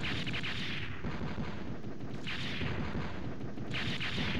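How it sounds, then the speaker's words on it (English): Continuous heavy booming rumble from maxed-out grenade explosions in the video game Mega Man Legends, loud and dense throughout with a few brighter bursts at intervals, no talk. "I maxed out the grenade."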